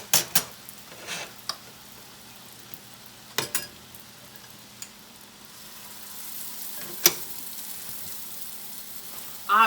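Frybread frying in hot oil gives a low, steady sizzle, broken by a few sharp clicks and clatters of a utensil or pan, with a brief louder knock near the end.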